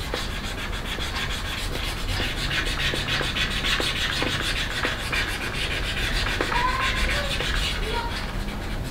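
A scratch on a motorcycle helmet being rubbed by hand, giving a steady close scrubbing friction with rhythmic strokes and occasional faint taps, continuous for the whole stretch without talk.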